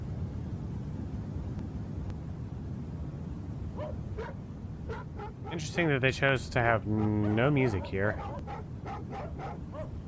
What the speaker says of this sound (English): This dog sound is like Mario Paint music.